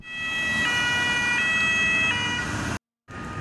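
A fire engine siren wails in a steady, loud, sustained tone as firefighters respond to a burning car, cutting out abruptly near the end before resuming.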